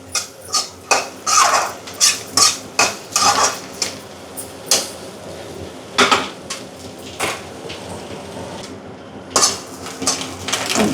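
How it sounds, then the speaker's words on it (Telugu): A spatula repeatedly clinks and scrapes against a pan while vegetables and egg are stir-fried for noodles, producing a rhythmic series of close metallic knocks over a faint background sizzle, with no talking. "ఇలాగా ఒక ఫైవ్ మినిట్స్ వరకు వీటిని ఇలా వేయించుకుంటూ ఉండాలి కలుపుతూ వేయించుకోవాలి"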